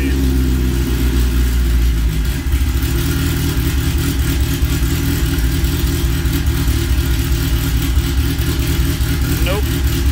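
A car engine running steadily under throttle with a strong low rumble, held near and loud for the whole stretch, with a slight shift in tone partway through; set during tuning work with an AEM X-Series wideband gauge.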